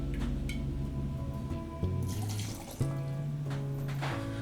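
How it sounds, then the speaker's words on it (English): Cachaça, about 60 milliliters, pours into a glass for a caipirinha, a close gurgling trickle with shifting pitch and a couple of small clinks, played over a background music track. "We'll add again our 60 milliliters of the cachaça."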